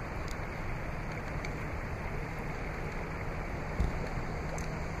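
A river flows in a steady, broad wash of rushing water that stays even throughout, moderately loud with only a faint knock near the end and no voices.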